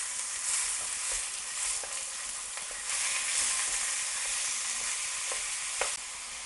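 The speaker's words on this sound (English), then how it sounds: "So I'm going to start to break that up with my wooden spoon." Minced meat frying in a pan for lasagne, a continuous close sizzle broken by occasional scrapes and taps of a wooden spoon breaking it up.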